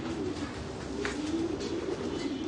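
Racing pigeons in a loft give soft, steady cooing and faint rustling throughout, an even, continuous murmur at moderate level with no talk over it.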